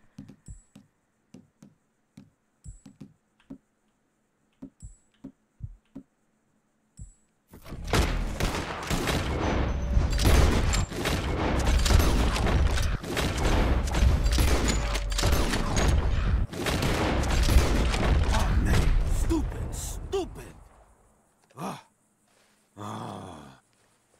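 Gunfire in Red Dead Redemption 2 erupts after a few scattered isolated thumps, a dense, loud barrage of shots and booms lasting about a dozen seconds, then dropping away to near silence with a brief final burst.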